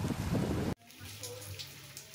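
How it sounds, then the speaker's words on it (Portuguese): Steady rain falls outdoors in Ceará, Brazil, first as a loud dense wash of drops, then quieter and more spread out after a sudden drop in level, with a low hum underneath. "Chovendo, e nós aqui no meio da chuva"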